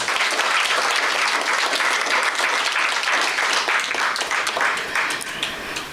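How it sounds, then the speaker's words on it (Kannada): An audience at an inauguration and award ceremony applauds steadily, a dense wash of clapping hands that holds for several seconds and tapers slightly at the end. "ಒಂದು ದೊಡ್ಡ ಚಪ್ಪಾಳೆ ಬರಬೇಕು"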